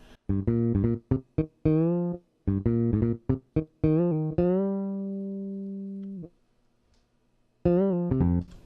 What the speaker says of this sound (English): This is the original bass sound I was using when I was trying things out.